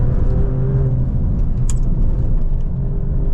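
Engine of a 2025 Maserati Grecale Trofeo pulling hard under acceleration, a loud, steady low rumble heard close from inside the cabin, continuous with no talk.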